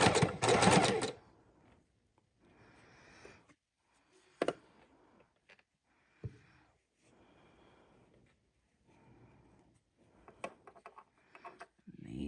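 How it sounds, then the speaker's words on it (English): A sewing machine stitches straight down the center of scrap fabric snippets, heard as a loud whirring burst at the start, then short intermittent runs and soft clicks amid quiet gaps. "we're just sewing straight down the center"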